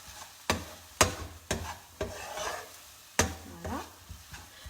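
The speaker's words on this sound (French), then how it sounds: "Donc je remue." A spoon stirring a seafood blanquette in a pan, sharp scraping knocks repeating about every half second to a second over a soft simmer, close up and with no talking.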